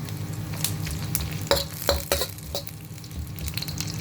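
Crushed ginger frying in a pan for biryani, a quiet sizzle broken by several sharp scraping strokes of a spoon stirring it, no talk.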